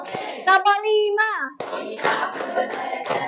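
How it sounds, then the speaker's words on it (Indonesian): A class of students claps hands in a rhythm game in a classroom. A voice speaks first, then several bursts of group clapping follow, close and fairly loud. "tepuk tangan semuanya"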